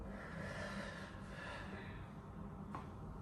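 A deep exhale during a chiropractic session, a soft close breath out through nose or mouth with a faint snort-like edge, alone over quiet room noise.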